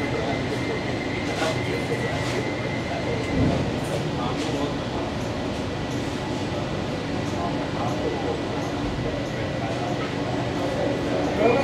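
Kolkata Metro Green Line train on its first inaugural run between Sealdah and Howrah, with a steady, loud interior rumble and rattle throughout and faint voices in the carriage.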